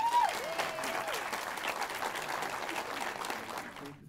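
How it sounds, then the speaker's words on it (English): Round of applause from a premiere audience at a Michael Moore film event in the room, a dense, even clapping crowd that holds steady before tailing off at the end, with a brief whistle-like tone near the start. "let's give them another round of applause"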